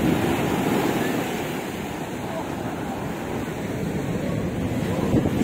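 Continuous rush of Black Sea surf at Odesa washing and splashing nearby, mixed with blustery wind buffeting the microphone.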